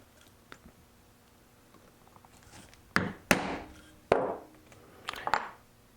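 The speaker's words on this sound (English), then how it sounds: "we are ready to set that. And we'll use this concave tool." Rivets set with a concave setting tool, several sharp hammer strikes landing in a loose irregular rhythm after a quiet stretch, close and fairly loud with a brief ring after each blow.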